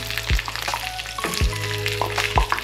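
Prawns sizzling in hot oil on a tawa, a loud, steady close-up fry with a few sharp clinks of a utensil stirring; no one talks.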